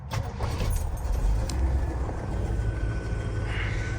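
A 1956 Continental Mark II's engine turns over and catches as the key is turned, a steady low rumble building from close by with a faint jingle of keys, no one speaking.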